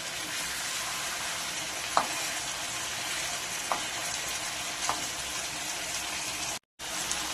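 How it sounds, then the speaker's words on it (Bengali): Chicken pieces sear in a pan over a high flame for a chicken rezala, giving a steady, dense sizzle throughout with a few faint clicks and a brief dropout near the end. "দ্বিতীয় পিঠটাও আমরা এভাবে ভেজে নেব।"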